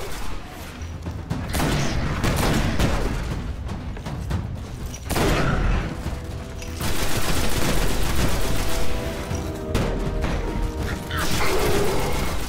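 Rapid bursts of gunfire from the video game Destiny, loud and dense, with repeated volleys and impacts running almost continuously, briefly dropping off before resuming.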